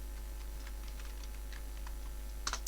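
Keys tap on a computer keyboard as a terminal command is typed on Kali Linux, giving light scattered clicks at an irregular pace over a steady low hum, ending with a firmer keystroke.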